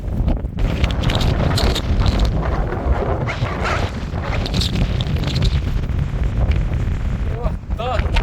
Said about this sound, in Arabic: كل ما كتطلع كل ما الريح كيتزاد.